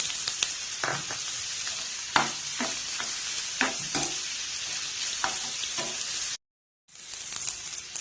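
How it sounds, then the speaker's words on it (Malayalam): Tomato and dried chili sautéing with salt in a pan, an even hiss of frying broken by regular spatula scrapes and knocks, near and moderately loud, with a short silent gap near the end. "തക്കാളിയും വാറ്റമുളകും ഇത് കൂടിയിട്ട് ഇത് വഴറ്റിയെടുക്കുകയാണ് ചെയ്യണം"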